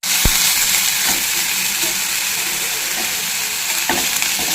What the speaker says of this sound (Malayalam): ഇനി നമുക്ക് റെഡിയാക്കി വെച്ചേക്കണം അരപ്പ് ഇതിലേക്ക് ഇട്ട് മൂപ്പിച്ചെടുക്കാം